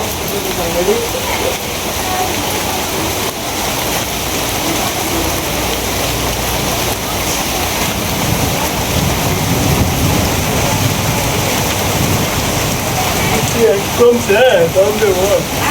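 Heavy rain pours onto a town street in a dense, steady hiss that lasts throughout, with voices faintly present underneath and some louder clatter near the end.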